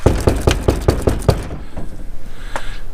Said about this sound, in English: So let me knock on the door and see if he's around.